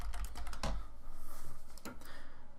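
Typing on a computer keyboard: a quick run of light keystrokes and clicks at close range, fairly quiet, with no talking.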